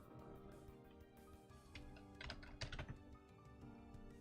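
A computer keyboard with a cracked spacebar clacks as someone types, a quick irregular run of clicks with a brief louder flurry near the middle, close and alone without speech.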